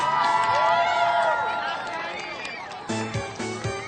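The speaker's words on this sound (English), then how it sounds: "let's have a really big, tremendous round of applause for all our new starter" At a Pokémon Diamond and Pearl launch event in a New York Nintendo store, a crowd cheers and whoops loudly. The noise fades over a few seconds before a voice cuts in near the end.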